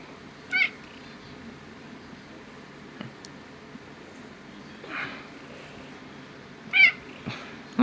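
A domestic cat gives a few short, separate meows, loud and close, spaced over several quiet seconds with faint rustling between them.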